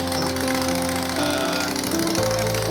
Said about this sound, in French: roule avec sa Harley Davidson tous les jours pour aller au travail avec cette moto